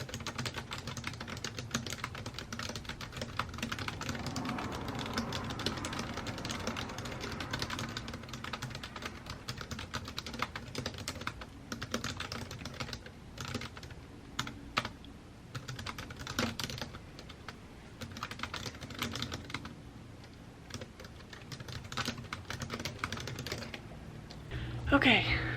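Steady typing on a computer keyboard during a long novel-writing session, rapid irregular key clicks continuing throughout at close range over a low room hum.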